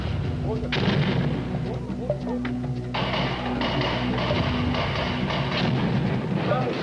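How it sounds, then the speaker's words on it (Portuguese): Gunfire near hotels in Huambo, Angola, in 1993, sounding as a dense, steady barrage of shots and rumbling fire. A low hum and indistinct voices run underneath. "Há tiros junto aos hotéis onde estão os membros da UNITA"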